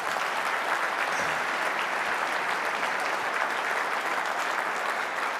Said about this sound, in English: Could you give those folks a round of applause?